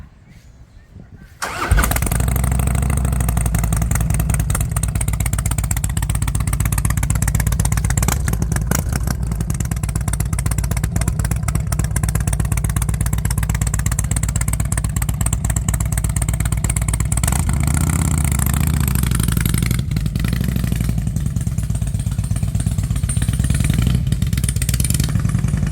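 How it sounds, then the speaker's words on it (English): Harley motorcycle with Python exhaust pipes fires up after a brief quiet start, then settles into a loud, steady, deep rumbling idle held close up for over twenty seconds, with faint talk underneath. "let's see what these Python pipes sound like"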